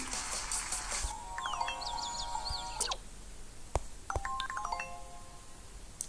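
A phone rings with an incoming call, giving a string of electronic melodic tones in two bursts separated by a short gap, heard alone at moderate volume.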